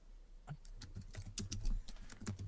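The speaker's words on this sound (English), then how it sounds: "you can tell by the loud keyboard clicking" Loud computer keyboard clicking, the rapid, irregular clatter of keystrokes close to the microphone, continuing steadily throughout during an online Discord tabletop role-playing session.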